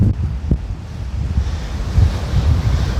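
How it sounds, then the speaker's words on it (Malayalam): Strong wind buffets the microphone at the seashore at Dhanushkodi, with surf rumbling beneath it in a loud, continuous roar that swells and gusts throughout, no voices present. "ഭയങ്കര കാറ്റാണ് അവിടെ."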